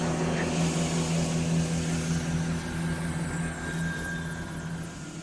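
An air ambulance helicopter comes in to land on a closed roadside, its rotor and turbine drone steady and fairly loud throughout, with a low rhythmic thump beneath and no voices.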